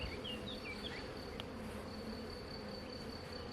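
A swarm of honey bees buzzing, a dense continuous drone with a few individual bees passing close by, steady and unbroken, no voices.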